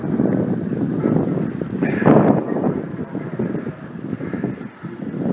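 Strong wind sweeps snow across an open city square in winter, a steady broadband roar with gusts that rise and fall throughout, close to the microphone and with no voices.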